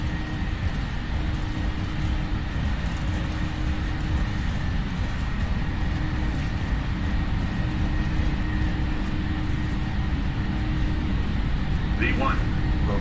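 Jet engines of a PMDG Boeing 737NGX roar steadily on the takeoff roll in a flight simulator, a constant dense rumble while a voice talks over it.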